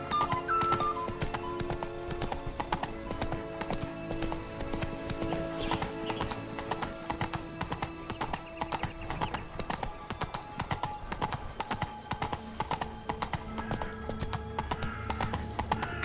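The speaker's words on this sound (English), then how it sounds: "Faster. Whoa there, Roach." Galloping horse hooves in The Witcher 3 video game beat a steady, rapid clip-clop throughout, with a faint whinny and a musical score running underneath.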